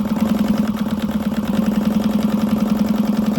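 A sewing machine stitches across a bag lining, a steady rapid mechanical whir with a pulsing needle rhythm, loud and continuous throughout without any voices.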